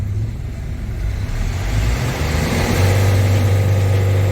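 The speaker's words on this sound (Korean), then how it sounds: "풀악셀 한번 밟아보시죠" A car engine rumbles steadily and builds to a louder, sustained roar as it revs at full throttle and holds near 3000 rpm, close by with no talking.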